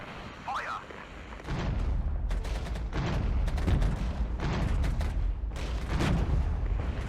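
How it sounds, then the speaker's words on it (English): An artillery barrage in Regiments brings a rumbling series of heavy booming explosions, repeated thuds rolling in one after another at moderate distance, with some voice briefly heard at the start. "let's get the artillery barrage coming in there"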